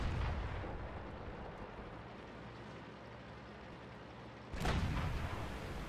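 Artillery strike in World of Tanks, a faint distant rumble of battle that breaks into a sudden heavy explosive impact near the end, with no talking.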